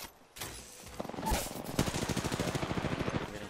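Automatic weapon fire in the battle royale game Apex Legends, a rapid stream of sharp shots that starts near half a second and keeps rattling steadily to the end, with a couple of louder blasts mixed in.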